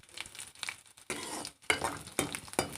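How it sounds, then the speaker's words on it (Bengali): Black cumin seeds (kalo jira) frying in a pan, a close, crackling sizzle with bursts of bright spattering and a few light clinks of utensils against the pan, no talking. "কালো জিরা দিয়ে দিয়েছি কালো জিরাটা ভেজে নেব"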